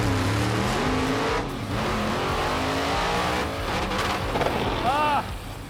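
A drag car launching hard down a drag strip, a loud engine roar with quick rising revs and pitch shifts through gears, close and intense throughout.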